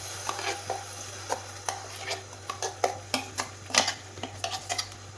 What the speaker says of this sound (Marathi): मध्यम गॅसवरती ना मी हे मिश्रण असं एकसारखं हलवून घेणार